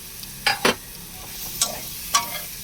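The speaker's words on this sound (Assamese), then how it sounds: "আটাইখিনি ধুনীয়াকৈ ভাজি ল'ম, আলুখিনি ভালদৰে ভাজি ল'ম।" Boiled potatoes are stirred into fried spice masala in a pan for a soybean and potato curry: four or five sharp scraping strokes of the spoon stand out over a soft, low sizzle, with quiet gaps between them.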